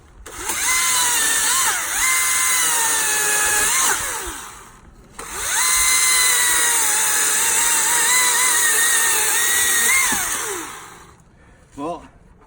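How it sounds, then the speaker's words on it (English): A Husqvarna battery-powered lithium-ion chainsaw cuts wood. Its loud, high electric motor whine runs in two long bursts of about four and five seconds with a brief pause between them, then gives a short final blip. "the whole demo is for the chainsaw being on the battery pack"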